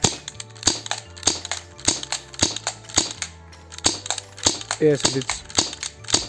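Tokyo Marui SOCOM MK.23 airsoft pistol, unsuppressed, firing at a target: sharp close snapping shots in a steady series about every half second, with brief talk between them.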